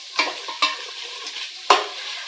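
Chicken biryani masala stirred and sautéed in a pan, a faint sizzle with three distinct spoon scrapes and knocks against the pan, close up and with no talk.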